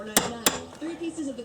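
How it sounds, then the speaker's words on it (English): A regular awl pre-punches stitching holes along the edge of a leather knife sheath, giving two sharp, close tapping thuds a fraction of a second apart, followed by brief, quiet talk. "start pre-punching all the holes for me to sew it together"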